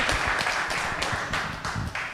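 A small indoor audience claps for a few seconds, loose uneven hand claps at fairly low volume and close range, with no speech.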